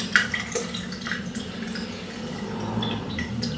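Cold tap water runs steadily for washing the face while mixing a homemade oat face wash, a continuous soft splashing flow with a few faint drips, close by and moderately quiet with no talking.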